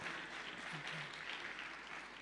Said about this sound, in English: give a nice round of a big applause